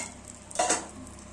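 Peanut chutney tempering hits a clay pan with a short, sharp sizzle and stir, a single close burst over an otherwise quiet background.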